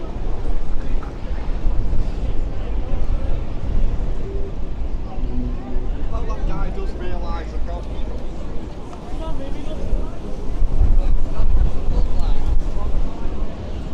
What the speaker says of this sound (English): Oh, the wind's coming at me again.